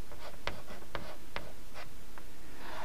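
A pen drawing an LED symbol on a paper schematic, a handful of short scratchy strokes spaced irregularly, close and fairly quiet with no talk.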